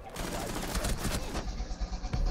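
Rapid gunfire in Rainbow Six Siege, a quick burst of sharp repeated shots for about a second followed by scattered thuds, fairly quiet overall.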